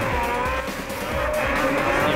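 Mad Mike Whiddett's rotary-engined drift car screams at high revs through a competition run at a national drifting championship in Mount Maunganui, with squealing, skidding tires under a loud, sustained engine wail.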